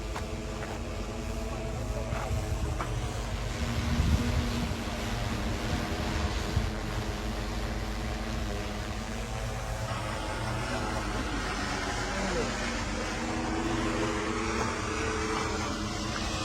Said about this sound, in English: it sounds like a flying lawnmower, doesn't it?